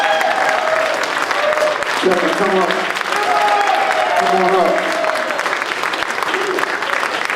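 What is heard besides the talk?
audience applause for Brother Kevin Reese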